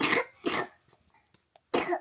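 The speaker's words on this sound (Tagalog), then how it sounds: "Magwa 1 week na itong ubo niya" Three harsh, close coughs from a young child with a week-long cough, two in quick succession and a third after a short pause.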